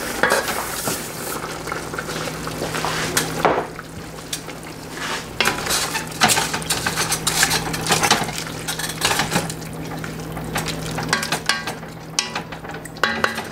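Rice goes into a pot of simmering Greek-style cabbage, giving a steady sizzle with scattered clinks and stirring scrapes that run through the whole stretch, close and fairly loud, with no talking.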